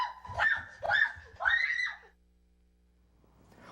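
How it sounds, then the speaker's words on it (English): A lobster being cooked gives off three sharp, shrill scream-like squeals in quick succession, loud and close, followed by near silence with a faint low hum. "Though you'd think Evie was in hot water with all those screams."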